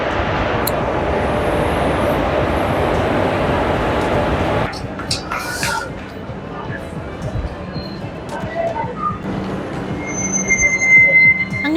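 The Mangala Lakshadweep Express rolls into platform 1 at Mangalore station with loud, sustained wheel squeal and rumble that cuts off suddenly, followed by quieter station ambience and distant clatter.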